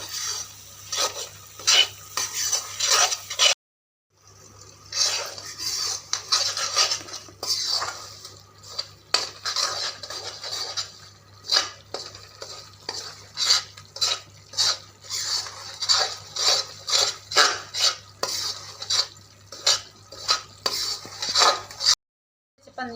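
Semolina roasting in a pan for sooji halwa, stirred steadily with a metal spoon that scrapes and clinks against the pan in a repeated rhythm, close and fairly loud, with a brief pause partway through and again near the end; no voices.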